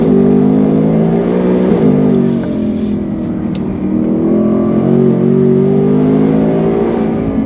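A supercharged 2024 Ford Mustang GT of over 800 horsepower accelerates hard in first gear, its engine roaring loud and close from inside with a rising, sustained drone and a brief dip before climbing again.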